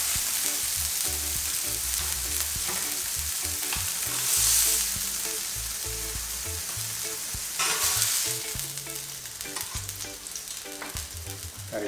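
Barracuda and lobster meat searing in a hot pan, with a loud, continuous sizzle. Brief louder bursts come as pieces shift, and music plays underneath, with no talking.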